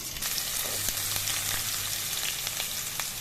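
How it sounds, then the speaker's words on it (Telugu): Dense, loud sizzling of garlic hitting hot oil, a continuous bright crackle with scattered pops, close up and uninterrupted. "నూనె మరిపోయిందండి. వెల్లుల్లి వేస్తున్నాం."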